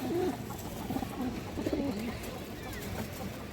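Sapchila pigeons, a male and a female, give soft low cooing calls in short repeated phrases, fairly close, over a steady background hum.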